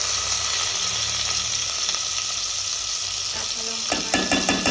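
Spice paste of pepper, onion, ginger and garlic fries in a pan with a steady, close, hissing sizzle, broken near the end by a few clattering stirs.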